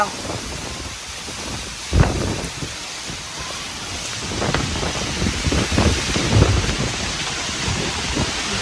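A rainstorm with wind, steady rain pouring on surfaces with gusty roar and a few sharp thunder-like bursts, loud and close throughout.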